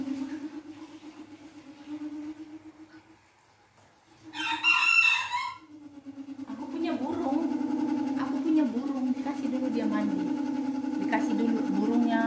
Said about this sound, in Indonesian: burungnya mau mandi-mandi kini lihatlah itu burungku